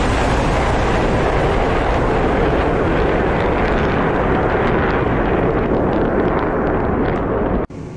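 An A-10A jet in the DCS flight simulator game gives off a loud, unbroken roar that holds for several seconds before cutting off abruptly near the end.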